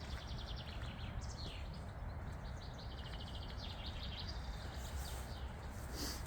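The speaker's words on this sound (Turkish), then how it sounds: "Ben de burada kuşların sesini dinliyorum." Faint, repeated bird chirps and trills above a constant rushing wash of a flowing river, in a park in Kingisepp, Russia.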